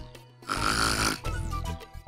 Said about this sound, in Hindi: जितने दहाड़े मार मार के खर्राटे ले रही है